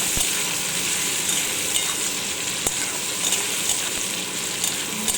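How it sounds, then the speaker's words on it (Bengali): Onions frying in hot oil with cumin seed tempering give a steady, bright sizzle throughout, close and continuous, with a few soft clicks and taps of stirring. "একটু জিরে ফোড়ন দিয়েছি পেঁয়াজ দিলাম"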